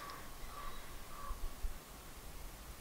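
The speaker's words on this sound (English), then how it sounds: "There's some birds and" Crows cawing outdoors over a quiet, fairly calm background, several short caws spread through the moment at moderate distance.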